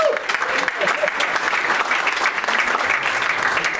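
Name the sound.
applause at a sales meeting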